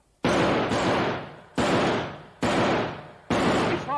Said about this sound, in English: He's firing! He's firing!